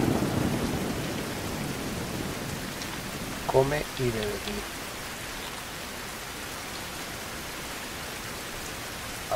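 Steady rain and a rumble of thunder in a stormy scene of the survival game Fountain of Youth, with constant hiss underneath, a brief spoken phrase, and a short burst of voices midway.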